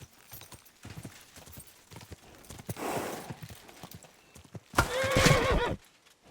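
Hooves clip-clop on the ground from a horse in Kingdom Come: Deliverance II, then the horse gives one loud, close, quavering neigh near the end, with a softer breathy swell earlier.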